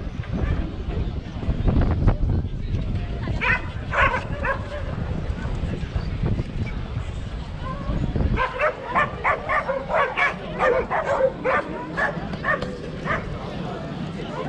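Several hunting dogs bark in short yipping bursts at an outdoor dog show, some near and some farther off, mixed with people talking and outdoor background noise.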